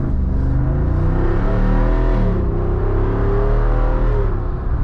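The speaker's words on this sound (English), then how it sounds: "that was just a light throttle application on the Wrangler 392" A Jeep Wrangler 392 with a HEMI V8 and performance exhaust rumbles under a light throttle blip, a deep, loud, steady growl that swells and settles without any talk.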